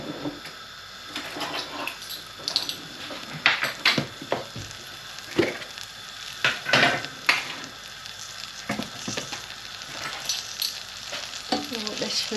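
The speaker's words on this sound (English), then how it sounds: "Got a tablespoon of butter. Just let that melt down a little bit." Butter melts and sizzles in a frying pan that was just used for cooking onions, giving a steady crackle on low heat with scattered clinks and scrapes of stirring throughout.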